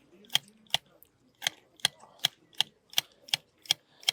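Hand shears snip a boxwood hedge in a steady rhythm of about a dozen crisp, close metallic clicks, each blade closure distinct with short gaps between.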